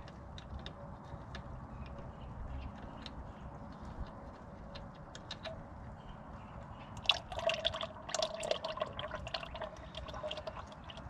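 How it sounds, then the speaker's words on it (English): Oil draining from the filter housing of a Farmall Cub tractor: faint irregular drips and trickling liquid, quiet and close, becoming a busier spatter of drops toward the end. "So this one here drains the filter housing."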